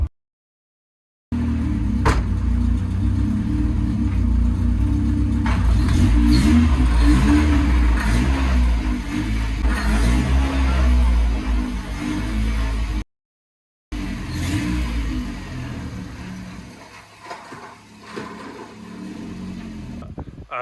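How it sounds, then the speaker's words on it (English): A B16-swapped Honda Civic EF drives with steady low engine drone and road rumble, briefly cutting out, then resuming with varying revs that fade toward the end; no talking. "So we're finally driving the B16 swapped EF again."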